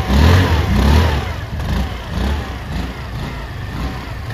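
A Hero Xoom 110 cc scooter engine runs steadily near the listener with a low, throbbing hum that swells slightly at the start, with no talking.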